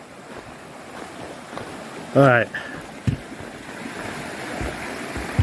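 Water running at a stream crossing beneath a footbridge on the Appalachian Trail, a steady wash of flowing noise that continues throughout, with someone speaking briefly over it.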